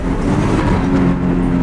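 Nissan Skyline R33 with an RB25DET engine revving hard during a pull, a loud, steady, close engine drone held for the whole moment without talk.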